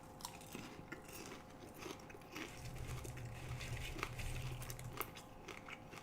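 Candy-flavoured popcorn coated with peanut butter and salt being chewed up close, soft crunching and munching bites repeating steadily over a quiet background.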